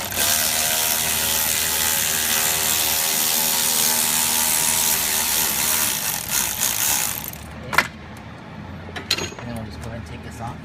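A wrench works bolts loose on a 6.0 Powerstroke diesel engine during cylinder head removal with the cab on, a long steady mechanical whir followed by a few sharp clicks and metallic knocks.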